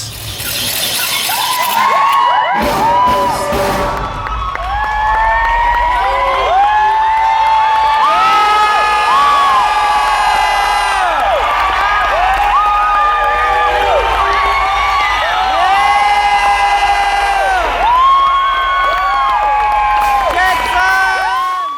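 A concert crowd at a band's show in Munich roars as the band opens, sustained loud cheering and screams over soaring synth and vocal sounds, after a sudden crashing start.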